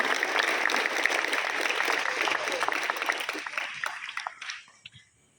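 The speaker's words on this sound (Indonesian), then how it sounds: "Tepuk tangan untuk antum semuanya hari ini." Hundreds of Islamic boarding school students at a motivational event applaud: dense crowd clapping with some voices, slowly thinning out and fading to quiet over the last second.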